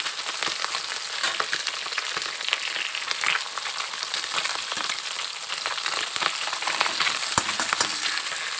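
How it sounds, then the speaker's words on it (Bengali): Puti fish sizzle steadily in hot oil in a karahi, a dense continuous crackle of frying with occasional sharper pops and spatters close by, no voices. "এরপরে আরও সবগুলো ভেজে নিচ্ছি"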